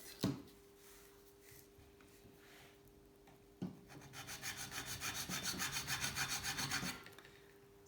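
A hand file scrapes across an aluminium part on a vintage Atala gravel bike build, quiet and close, with a few isolated strokes followed by a steady rhythmic run of rasping passes.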